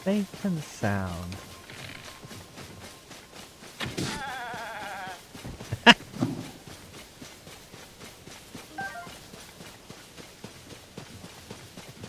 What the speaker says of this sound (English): There's some more goats.